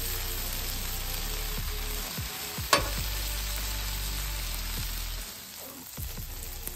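Birria tacos with cheese crisping around the edges sizzle on a flat griddle, a steady close frying hiss broken by a few soft scrapes and one sharp clatter as they are flipped.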